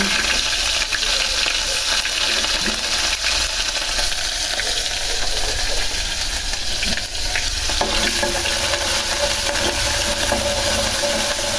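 Onion and garlic fry in hot oil with a dense, continuous loud sizzle and crackle that carries on without letup, and the occasional stir can be heard.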